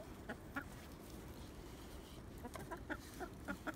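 Hens on a farm clucking in short, scattered bursts of soft calls against a steady low background, with no talk.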